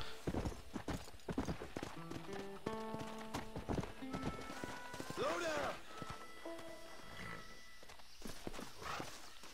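A horse in Red Dead Redemption 2 walks with rhythmic clip-clopping hooves close by, a whinny rising midway, while music plays underneath and someone talks.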